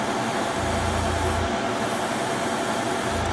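Paint sprays onto a perch fishing lure inside a spray booth, making a steady, close airy hiss that runs without a break and with no voices.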